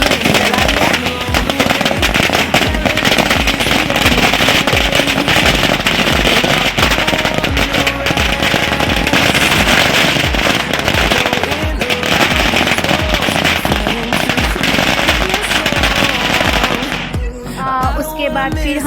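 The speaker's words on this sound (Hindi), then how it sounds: "बल्कि तो देखिए पटाखे भी चला लिया।" Firecrackers go off nonstop at an Indian wedding procession arriving at the bride's house, a loud dense string of rapid crackling bangs for nearly twenty seconds before tapering off near the end.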